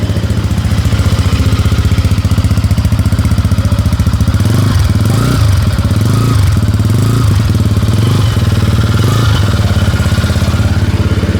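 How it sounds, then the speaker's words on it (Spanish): An AKT 250R motorcycle engine idles loudly and steadily, with a rough, throaty exhaust rumble that pulses in a few revs, close up. "se escucha ronqueto el sonido del motor o el sonido que reproduce el escape"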